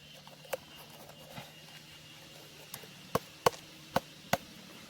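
Bamboo shoots being chopped and peeled outdoors, with sparse sharp knife chops, a few isolated early then a quicker cluster of four or five crisp cuts near the end, over quiet background.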